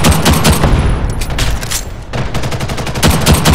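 Loud, rapid bursts of gunfire from the game Ghost in a Shell, machine-gun-like volleys hammering almost continuously, easing briefly in the middle before picking up again, with no talk.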